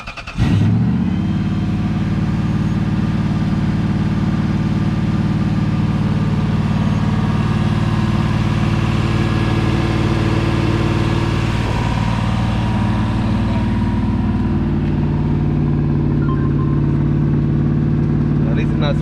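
Lexus GS400 V8 idling steadily after a repair, a continuous loud engine drone holding even for many seconds with no sputtering, while people talk over it.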